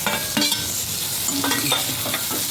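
Tomato tipped into browned onions frying in ghee for homemade dal khichdi, a steady close sizzle with several clinks and scrapes of a spoon against the pan.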